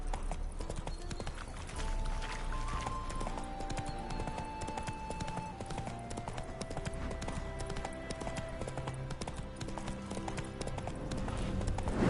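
Horse hooves clip-clop steadily in The Witcher 3 game as the mount moves along, a continuous even trotting rhythm under a faint tonal music backdrop, with a brief neigh-like sound blended in.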